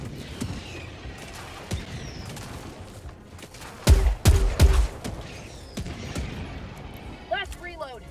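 Several bursts of gunfire shell a hillside in the video game Helldivers 2, with a loud cluster of rapid shots near the middle and a voice talking around them.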